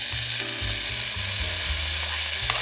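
Onion and green pepper sizzling loudly in a very hot skillet for homemade spaghetti sauce, a dense continuous hiss close up with a low rumbling tone underneath, no voices.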